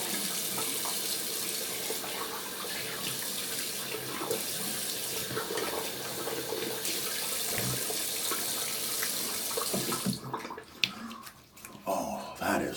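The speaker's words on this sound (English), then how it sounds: "Just gonna wash this excess soap off." Water runs steadily from a bathroom tap as soap is rinsed off a face after a double-open-comb razor shave, a continuous broadband splash that breaks into uneven splashing and drips near the end.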